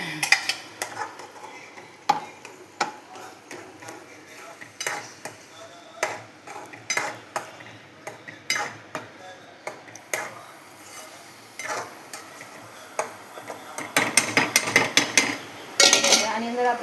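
Metal spoon clinks and scrapes against a cooking pot as tomato paste is stirred into chole, sharp irregular taps spread throughout, busier toward the end, with faint sizzling underneath.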